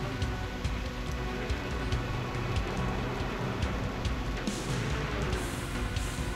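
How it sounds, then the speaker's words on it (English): Rain in Reverse: 1999 falls as a steady dense hiss with faint pattering drops, continuous and close, with a brief brighter surge near the end and no talk. "It's raining"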